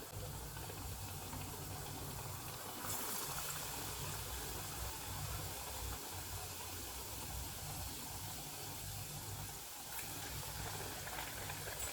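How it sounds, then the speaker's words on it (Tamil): Vadai, a lentil fritter, frying in hot oil over moderate heat, a steady soft hiss and sizzle with a constant low hum beneath, faint and continuous throughout. "வடையை ஒவ்வொன்றத்தையும் போட்டு ஃப்ரை பண்ணிக்குவோம்"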